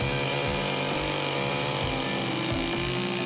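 A chainsaw engine drones steadily at close range, its pitch rising and falling as the throttle is worked, with no voices over it.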